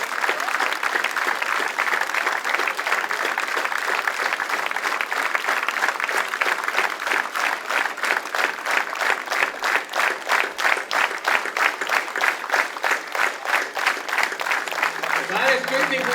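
An audience applauds at a premiere of a music show, sustained loud clapping that settles into rhythmic, unified beats partway through, with a voice briefly audible near the end.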